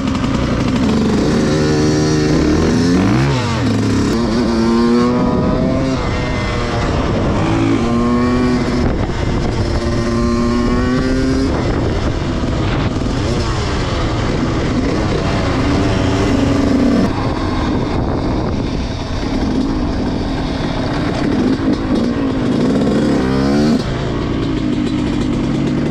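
A Yamaha YZ 125 two-stroke dirt bike, freshly rebuilt, runs loud and close on a test ride, its engine repeatedly revving up and dropping back in rising and falling sweeps, with a steady buzzing drone throughout.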